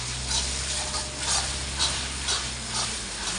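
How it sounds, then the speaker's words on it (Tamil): Onion, tomato, green chili and curry leaves sautéing and being stirred in oil, a steady close sizzle with soft scraping stir strokes and no talk. "எண்ணெய் கருவேப்பிலை வெங்காயம் தக்காளி பச்சை மிளகாய் எல்லாத்தையும் போட்டு நல்லா வதக்கடணும் வதக்கிடுவோம்"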